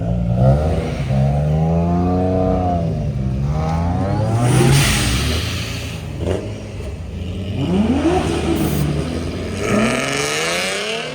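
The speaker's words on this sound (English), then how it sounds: "Some of these cool cars now are leaving." Several car engines rev and accelerate one after another, rising and falling in pitch as vehicles, including Nissan Skyline R32 and R33, pull away at close range leaving a car show.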